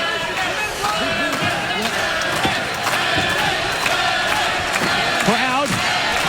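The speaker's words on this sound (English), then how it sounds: "Crowd cheering the world champ on" A wrestling crowd cheers loudly and steadily for the world champion after a show-of-strength move by Chris Sabin, with shouts and whistles rising above a dense roar of voices throughout.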